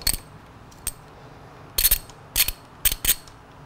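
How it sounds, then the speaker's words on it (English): A ratchet loosening the triple tree clamp pinch bolt on a motorcycle, several short sharp metallic clicking bursts in uneven groups, close up with quiet gaps between. "And then we'll do the triple tree clamp bolt."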